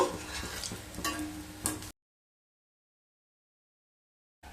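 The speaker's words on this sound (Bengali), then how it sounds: "এভাবে উল্টে পাল্টে কিন্তু দুটো সাইড খুব ভালোভাবে ভেজে নিতে হবে" Hinche greens pakora frying in hot oil gives a soft, steady sizzle with faint crackles and one sharp tick, running for about two seconds before dead silence.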